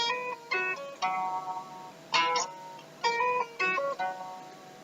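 Guitar playing a lead run, a quick series of plucked notes in short phrases including a rapid trill between two notes, played alone at moderate volume.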